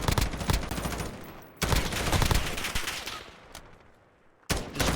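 Rapid bursts of automatic gunfire from the video game Call of Duty Modern Warfare during a 4v4 hardpoint match, loud clustered volleys with a short lull before a final sharp burst.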